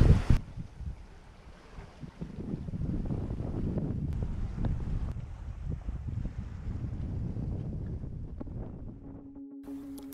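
Wind of about 8 knots buffets the microphone on a sailboat in steady low rumbling gusts, with water and hull noise faintly beneath, a sharp thump at the start.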